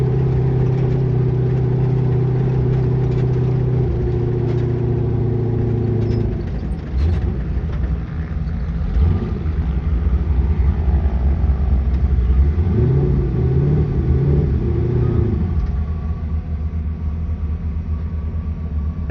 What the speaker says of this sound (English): That is driving a Dogbox, technically a sequential, 4-speed sequential transmission.